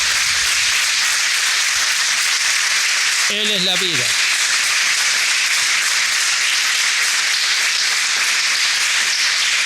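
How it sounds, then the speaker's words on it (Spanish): A church congregation applauds the Lord on Easter Sunday, a dense, steady wash of clapping that fills the whole stretch while a preacher's voice briefly speaks over it. "Dale un aplauso al Señor."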